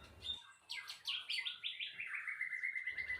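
A white-rumped shama, the murai batu, sings alone in a bright, varied stream of whistled phrases and rapid chirps, fairly close and clear, with no voices.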